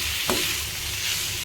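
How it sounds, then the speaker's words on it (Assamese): Duck pieces with turmeric powder and salt are stirred in a hot pan for a dry fry, giving a continuous bright sizzle with a soft scrape of the spoon, close and alone. "এইখিনি এনেদৰে অকণমান সময় কাৰণে লৰাই ল'ম।"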